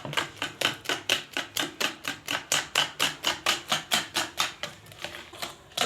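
Vegetable oil is mixed into red velvet cake batter in a bowl, each quick, even stroke landing as a regular clack, about three or four per second, with no talking.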